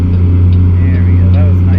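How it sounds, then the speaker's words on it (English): A truck engine with its retarder engaged in American Truck Simulator drones steadily and loudly with a deep, constant low rumble throughout, with faint higher tonal whines sweeping above it. "Let's get the retarder on."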